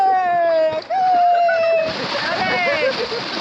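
A person jumps into river water with a clear splash and churning slosh partway through, while people speak loudly over it throughout.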